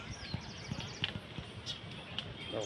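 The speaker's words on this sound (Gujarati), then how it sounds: "ગાય માતા કઈ રીતના પગથિયા સડી" A cow climbing the stone steps of a temple hill at Taladhvaj, Talaja, makes faint, irregular hoof clops spaced unevenly at a slight distance amid light outdoor background noise.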